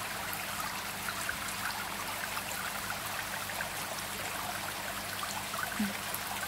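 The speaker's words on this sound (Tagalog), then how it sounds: "Ang rumagasang tubig, ang ganda din. Pakinggan." Water rushes steadily from a decorative fountain, a dense, even hiss of splashing and pouring that stays constant and fairly close, with no break and only faint background sounds.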